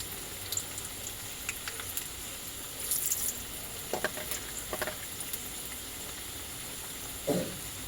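Sugar caramelizing in hot oil in a pan for a Bengali chicken kosha curry gives a faint, steady sizzle with scattered soft pops and crackles and a couple of brief louder bursts of frying.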